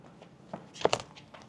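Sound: crunching of loose roof coating underfoot

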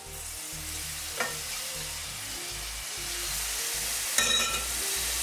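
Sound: stirring semolina for halva in a hot pan

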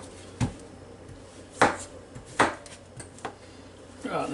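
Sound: knife slicing zucchini down the middle

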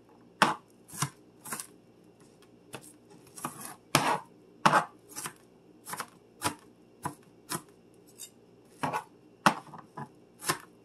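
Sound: knife dicing onions

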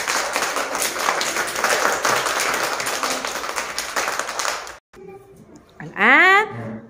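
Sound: children clapping in class to welcome a letter

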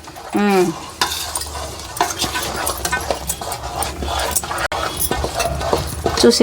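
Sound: stirring ariselu dough in a pan with ghee

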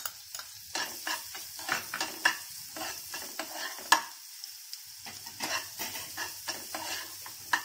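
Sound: chopped onions sautéing in oil

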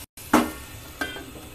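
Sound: pot being covered with lid while prawn malaikari cooks

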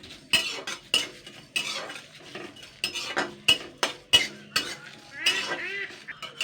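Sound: dry-frying fennel, bay leaf and dried chillies, stirring

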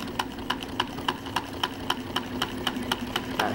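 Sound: Wiggers Stirling engine running slowly

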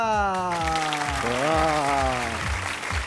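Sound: audience applause welcoming the magician Felipe Gouveia

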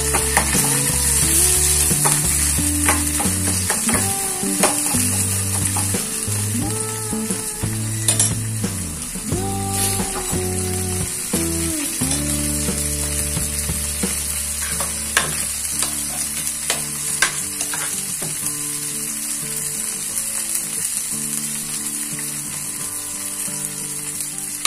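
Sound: tempering frying and being stirred in a pan

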